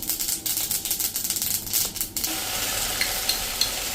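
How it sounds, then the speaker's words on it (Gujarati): A hot tempering of urad dal, curry leaves and mustard seeds is poured into coconut chutney for medu vada. Close, rapid crackling pops give way to a steady hiss, with no talk. "હવે આપણે આ વઘારને જે આપણે ચટણી બનાવી છે એમાં જ નાખી દઈશું"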